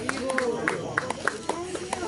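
An audience gives scattered, uneven applause for performers at a Krishna devotional program, with separate claps standing out over a crowd murmur and talk.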